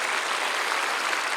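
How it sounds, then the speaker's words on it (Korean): Dense, steady applause from a large congregation at a Korean church prayer rally for peaceful reunification, held at the Yongsan War Memorial, sustained and close with no pauses. "그분들에게 박수를 보냅시다."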